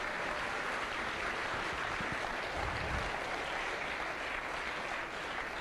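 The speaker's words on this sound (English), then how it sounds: "let me finish up with asking you to a round of applause for this bunch of three guys here who organized" Faint, even applause from a large audience at the SWERC 2018 opening ceremony, thanking the organizers, with a steady wash of many hands throughout.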